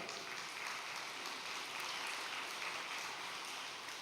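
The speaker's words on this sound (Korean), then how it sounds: "동의하신다면 박수 부탁드리겠습니다." Steady applause from an audience gathered at a weekend religious training session, a dense, even wash of many hands clapping that holds for four seconds, moderately distant and soft, with no talking.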